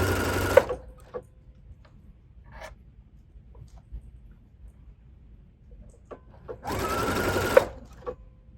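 A cover stitch sewing machine runs through lace in two short bursts, a fast whirring hum each lasting under a second to about two seconds, separated by quiet pauses with small handling clicks and taps.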